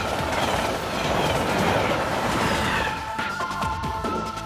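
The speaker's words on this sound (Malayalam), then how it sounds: "ട്രെയിൻ വരുന്നുണ്ട്, ചാടാൻ റെഡി ആയിക്കോ." A train rolls in on the rails, loud and close, its broad rumble and clatter steady at first, then metallic wheel squeal and ringing tones rise over the last second and a half.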